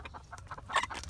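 Chickens in a yard of Nagasaki and kikiriki bantam fowl, with chicks nearby, give soft scattered clucks and a louder squawk midway, close and moderately loud over steady outdoor background noise.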